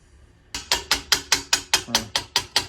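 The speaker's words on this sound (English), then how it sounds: "Hammering on a mandrel in this instance" A steady series of about ten sharp metallic hammer strikes on a 1903 brass cornet bell over a mandrel, evenly spaced and ringing briefly, loud and close, after a quiet start.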